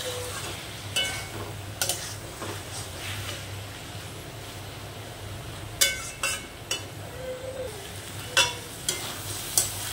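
A prawn and taro stem curry bubbles and sizzles steadily in a pan, with occasional sharp clinks and scrapes of a spoon against the pan and no one talking.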